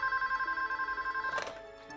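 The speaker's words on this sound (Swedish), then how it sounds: "en hundradel av en sekund senare så ringer telefonen" A telephone rings: a loud, fast electronic trill pulses evenly for more than a second, then breaks off into a short burst of noise, with no talking over it.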